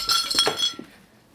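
A glass knocked over, with ice spilling out in a quick burst of bright clinks and rattles that fade within a second.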